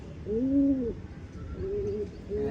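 A pigeon at a nest with a newly hatched chick indoors at home gives a full, rolling coo up close, followed by softer, shorter coos trailing off.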